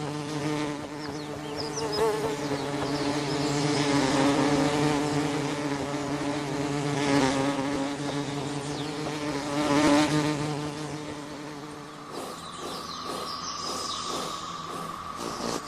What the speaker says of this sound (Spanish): Pero cuando los visitantes son abejas y avispas, la cosa cambia.